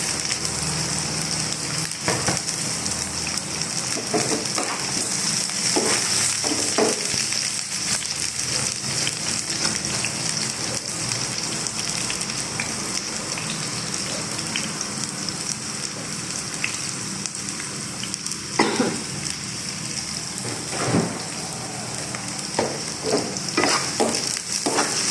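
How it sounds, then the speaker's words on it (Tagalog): Fried rice crackles and sizzles continuously in a pan, with scattered clinks and scrapes from a spatula at irregular intervals, close and steady without any talking. "Tara guys, samahan niyo ako magluto ng fried rice."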